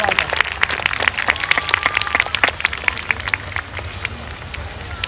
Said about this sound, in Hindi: जोरदार तालियां आप लोगों की तरफ से।